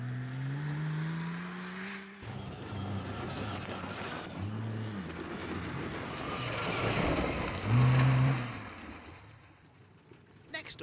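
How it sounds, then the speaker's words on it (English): A rally car runs a forest stage at Glanusk in Class 9 of the AWDC series, its engine droning and changing pitch through gear shifts, rising to a loud pass near the end over steady gravel and road noise. "Next up is the car that's fourth place in Class 9, that of Lizzie Jones, having a really good"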